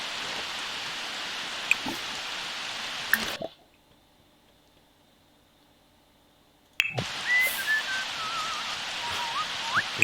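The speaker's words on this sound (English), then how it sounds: "Bloody whistling." A Sim whistles in the Sims 4 game, faint wavering tones rising over a steady rain hiss after a few seconds of near silence, with occasional drips.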